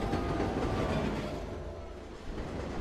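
A train in the Disneyland Adventures video game rumbles steadily and loudly with a dense rolling clatter that eases slightly midway, and no voices are heard.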